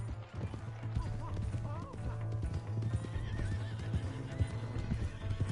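Horse hooves clip-clop steadily on the ground in Red Dead Redemption II, and the horse whinnies a few times. A game score hums underneath and a player talks over it.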